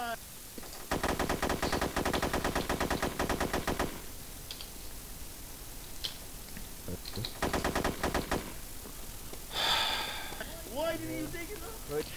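Rapid automatic gunfire in a video game, two long loud bursts of machine-gun fire separated by quieter stretches with scattered single shots, while players talk over voice chat.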